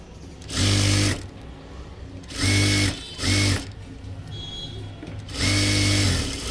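A sewing machine stitches a blouse cross panel in four bursts, each a loud steady mechanical whir that starts and stops, with quiet handling in between.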